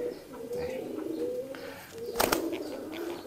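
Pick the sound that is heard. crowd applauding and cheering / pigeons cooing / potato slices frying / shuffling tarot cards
pigeons cooing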